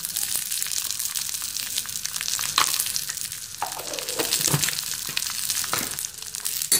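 Tadka of oil with turmeric and hing sizzling steadily in a pan while making idiyappam, a continuous close crackling hiss with small pops and a stir or two, no voices.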